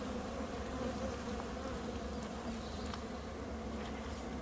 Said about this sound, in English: we're going to put our piece of paper to shake the bees onto there